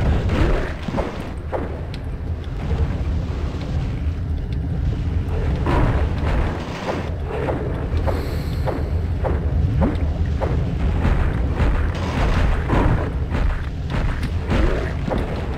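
Enemies in the video game HeXen fire explosive shots, producing repeated sharp booms and thuds spaced irregularly over a rumbling background.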